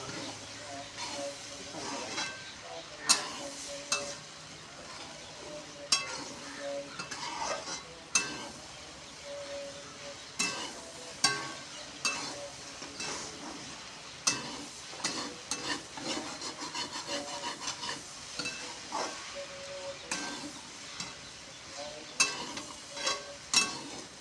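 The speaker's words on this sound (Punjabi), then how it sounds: "ਮਸਾਲੇ ਨੂੰ ਥੋੜਾ ਜਿਹਾ ਸੇਕ ਲਓ" Masala spices roast in a pan with repeated scraping strokes of a spatula over a faint sizzle, in a steady rhythm of rubbing sounds with occasional sharper knocks.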